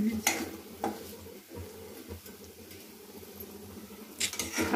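Diced potatoes cook in a pan for sabudana khichdi and get stirred, with soft scraping and clinks of a spoon against the pan in a few distinct strokes over a faint low sizzle, quiet and close.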